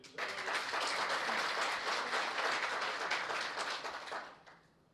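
Applause from the audience at a ceremonial event for a singer's performance: a dense, steady wash of clapping that holds for about four seconds before fading out, with no talk over it.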